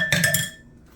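A spoon stirring peanut butter into a no-bake cookie mixture, a quick burst of three or four close clinks against the bowl, then fading to quiet.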